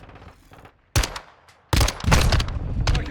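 Bursts of MX9 SMG fire in Call of Duty: Modern Warfare II, a short loud volley, a pause, then a longer sustained close-range burst of rapid shots.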